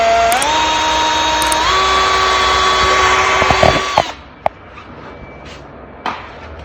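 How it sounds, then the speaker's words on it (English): A power drill whirs steadily, close and loud, boring holes to mount a Maxton Design race splitter on a Ford Fiesta ST180, its pitch stepping up twice before it stops at about four seconds, followed by a few light knocks. "and we can start drilling."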